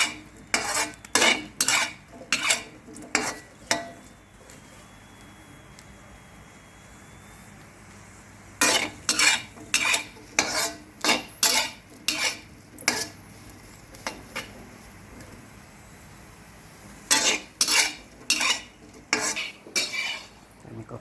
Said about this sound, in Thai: ต้องคนบ่อยๆนะครับผม